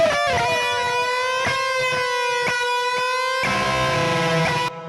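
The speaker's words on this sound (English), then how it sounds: "tweaking, twanging kind of sound" Electric guitar through a Marty Friedman signature Sansamp, playing a twanging, edgy lead line with bent sustained notes and a few sharp picked attacks, loud and close, with no voices.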